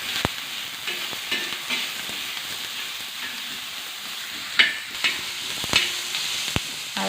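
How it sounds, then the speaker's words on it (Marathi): Finely chopped onion fries in a little oil in a pan, giving a steady close sizzle with occasional stirring scrapes and clicks, no talking. "त्याच्यामध्ये असा बारीक चिरलेला कांदा चांगला असा लालसर परतवून घ्यायचा."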